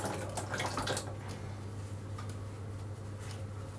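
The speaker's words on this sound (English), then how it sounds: "I'm just going to run it under the tap." Tap water runs steadily over folded toilet roll in a sink, a soft continuous splashing hiss that is fairly faint, with a few brief louder spatters at the start and no talk.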